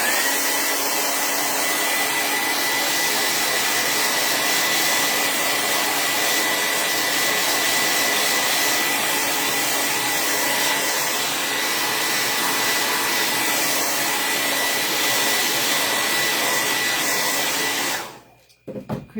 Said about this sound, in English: I'm about to blow dry, so it's going to get loud for just a second.